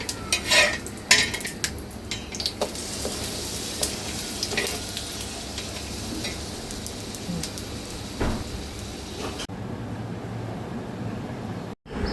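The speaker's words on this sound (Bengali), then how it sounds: "আস্তে একটু কমিয়ে দেয়, ডিমটা ভেজে দেবো।" An egg fries in a pan on a home stove, giving a steady soft sizzle with a few sharp clinks of cutlery and pans near the start, then fading to a quieter hiss.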